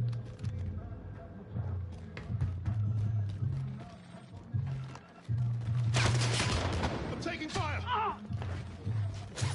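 Gunfire from a video game, bursts of shots and thuds rattling at moderate level beneath a player's talk and game sounds.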